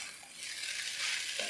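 Food stirred in a frying pan with two spoons over a lowered flame while making Singaporean rice, a continuous close sizzle with soft scraping and no voices.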